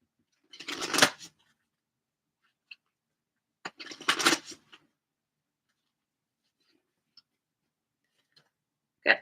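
Oracle cards being shuffled by hand in two short riffling bursts, close and fairly quiet, separated by silence and a few faint taps, with another brief burst at the very end.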